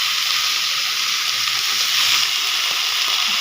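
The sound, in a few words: pumpkin mixed vegetables frying with dried chilies and panch phoron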